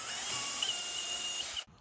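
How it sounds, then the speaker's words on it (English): A power drill with a 3/8 inch bit whines steadily as it bores through wood, loud and close, then cuts off abruptly near the end. "I'm gonna do this one with the 3/8 inch drill bit too"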